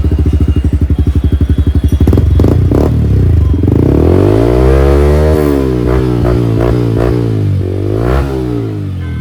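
A modified Yamaha R15 V4 sport motorcycle engine, loud and close, chugs in a rapid idle pulse before being blipped into a series of sharp revs that rise and fall.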